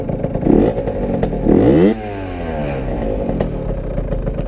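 A Porsche engine idles with a low, uneven rumble after a couple of louder revs and a clattering burst, then settles into a steady throb nearby.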